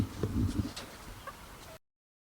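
Meat chickens clucking close by, a few short soft clucks and low murmurs over about two seconds before abrupt silence.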